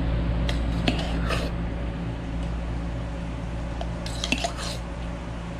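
Egg whites being whipped into meringue in a cocktail shaker, a continuous close, wet churning rattle with occasional sharper knocks, fairly steady throughout.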